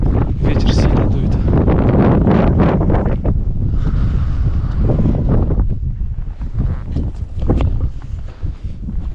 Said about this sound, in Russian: Ветер сильно дует.